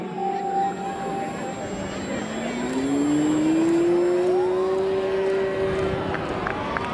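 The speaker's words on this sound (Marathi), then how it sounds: "पावर चालू केली आहे विमानाची." A fighter aircraft engine at a military school air display powers up, its whine rising and steadying over a broad, close, continuous roar.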